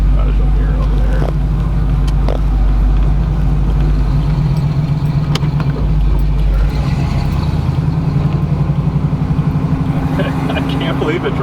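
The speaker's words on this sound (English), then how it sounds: "I can't believe it drives this nice after sitting for 5 years." Second-generation Chevrolet Camaro Z28, driven after sitting unused for five years, its engine giving a steady low rumble throughout while people talk over it inside the car.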